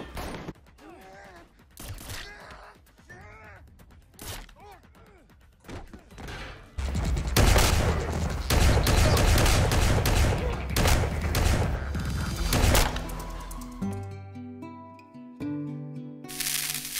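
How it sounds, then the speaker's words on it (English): Gunfire from the John Wick Chapter 2 shootout: dense bursts of shots and crashes echo loudly through a busy action mix, following quieter stretches with brief voices, then ending on sustained musical tones. "shootout sequence from John Wick Chapter 2"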